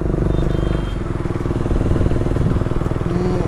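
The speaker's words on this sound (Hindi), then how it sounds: "फाइनली भाई मेरी भाई बाइक बन चुकी है अभी फ़िलहाल, तो भाई ऑन हो गई है" A Yamaha R15 V3 motorcycle, just repaired after a blown fuse, runs at a steady idle close by. Its engine thrums continuously with an even, buzzing rumble and no pauses.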